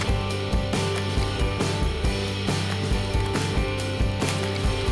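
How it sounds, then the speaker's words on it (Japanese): Plastic parts of a Bandai DX Kyurenoh toy robot click and rattle as they dock together, with repeated close ratcheting snaps and handling noise over a continuous background hum. "シシボイジャーにドッキング、あ反対だ、ドッキングするわけですね。"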